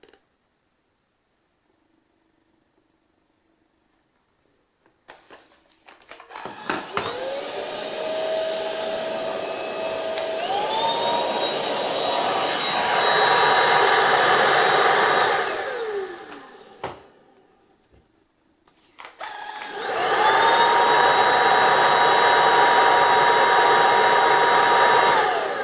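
An Ultenic U10 cordless vacuum cleaner starting up with a rising whine that steps higher as it senses dust, running loud and close, cutting out briefly, then restarting to a high steady whir.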